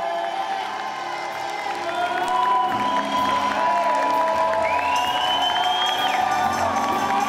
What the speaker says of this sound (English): Let's clap our hands for our woman of God